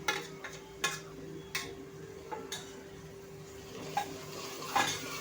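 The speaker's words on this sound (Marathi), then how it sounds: "हे वाटण छान असं या मसाल्यांसोबत भाजून घ्यायचं आहे" A ground paste of coconut, onion, ginger and garlic roasts with spices in a pan for pomfret gravy, with a low sizzle under periodic scrapes and taps of a spoon stirring against the pan.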